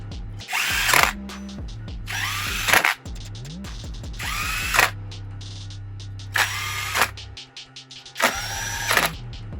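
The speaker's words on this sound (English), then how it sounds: "we're going to just snug these up with the impact." Impact wrench snugging the case bolts on a CR85 Blaster hybrid dirt bike motor during a rebuild: several loud, close bursts of whirring and hammering, each a second or so long, separated by short pauses and light clicks.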